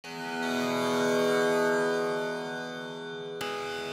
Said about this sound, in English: So now when I play back that innocent tambora